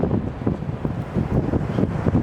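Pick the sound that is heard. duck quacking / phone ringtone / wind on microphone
wind on microphone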